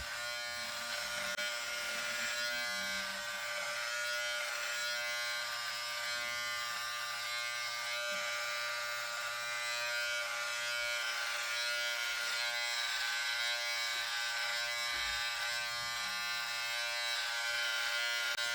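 A Philips Beardtrimmer Series 5000 BT5502 cuts hair with no comb attached, giving a steady, close electric buzz that runs unbroken with slight shifts in tone as it moves.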